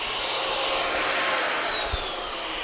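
A Miele U1 upright vacuum cleaner runs with a loud, steady broadband whoosh and a faint whine, constant and close throughout with no talking.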